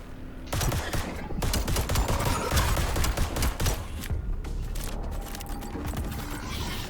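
Rapid pistol fire from a heavily modded handgun in Void Breaker, a dense burst of shots over chaotic game action, loud and continuous with mechanical clicks.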